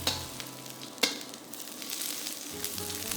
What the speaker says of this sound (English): Fry the garlic, ginger, dry chilies, white parts of the spring onions